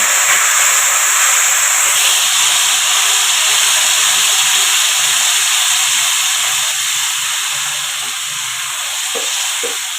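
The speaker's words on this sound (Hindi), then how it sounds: "अब हमने डाल देना इसमें जो हमने पेस्ट बना के ग्राइंड किया था। अब हमने वो डालते जाना, हिलाते जाना।" Ground masala paste for egg white korma sizzling steadily in a hot pan while being stirred, a loud continuous hiss and crackle running throughout with faint scraping near the end.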